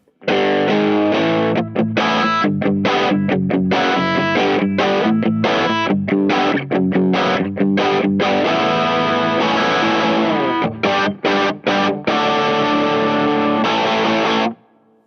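A Valco Five-O overdrive pedal drives an electric guitar in a driving rock rhythm, loud and continuous with brief choppy stops between chord hits.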